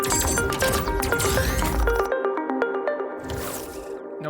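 Bouncing sound effects from a mobile laser puzzle game made in Godot ring out as a rapid series of bright, squishy electronic blips, moderately loud and layered, with no talk.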